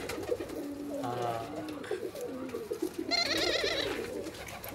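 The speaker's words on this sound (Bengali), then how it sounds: "দেখুন আমার দু জোড়া ঘুঘু" Two pairs of pet doves, including an Australian pair, coo softly in repeated rolling phrases nearby, with a brighter burst of calls toward the end.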